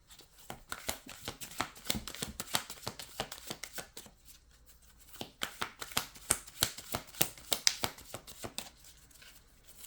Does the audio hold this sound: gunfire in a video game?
no